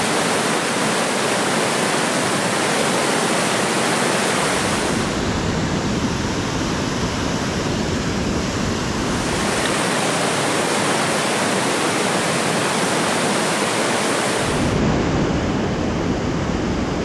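A waterfall on an Alaskan river roars as a loud, constant rush of water, close by and unbroken, with no voices.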